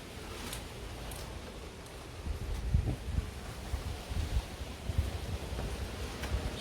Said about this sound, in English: It's a wee bit windy up here folks